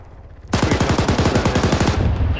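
Sustained automatic gunfire in the military video game Arma 3, a rapid burst of roughly fifteen evenly spaced shots lasting about a second and a half, loud and close, with no talk over it.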